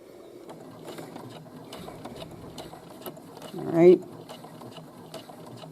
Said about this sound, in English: you're getting used to the sewing machine